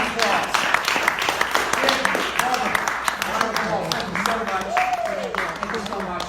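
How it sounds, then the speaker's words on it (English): An audience at a comedy show claps in a lively round of applause, dense and continuous, with scattered cheers and voices mixed in. "Give them both a round of applause."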